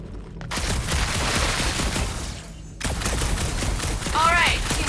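A burst of rapid gunfire in the Marvel's Guardians of the Galaxy video game: loud, dense cracks that drop out briefly, resume, and continue under game sounds.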